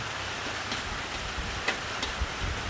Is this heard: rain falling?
yes